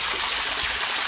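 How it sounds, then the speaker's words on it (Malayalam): Water pours over a check dam near a resort, a steady, close, broadband rush with no pauses or other sounds. "ഇത്രയും വെള്ളം വരുവുള്ളൂ ഒഴുകി."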